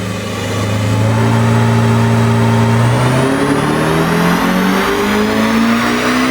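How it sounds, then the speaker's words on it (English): A supercharged Chevrolet Corvette C8 revs hard on a dyno, its engine note climbing steadily from a deep drone to a higher pitch and holding loud and close throughout, with no talking. "it's time to put the car back on the dyno and see just what sort of power we can achieve"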